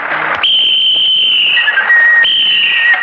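Sharp, shrill whistles are blown twice, each a long piercing tone that starts abruptly and trails slightly downward, loud and near, with a brief noisy rustle before the first.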